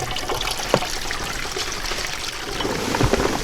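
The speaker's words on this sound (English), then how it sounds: "And then we're gonna come through this cheesecloth on the bottom. And what ends up in this bucket is gonna be nice, pure apple cider." Fresh apple cider trickles through cheesecloth into a bucket in a steady, close liquid dribble with a few small splashes, and no one speaks over it.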